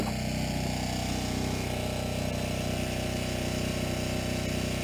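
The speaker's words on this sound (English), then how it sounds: "you gotta excuse the generator noise" A generator drones steadily throughout, a loud, constant low mechanical hum with no pauses or changes.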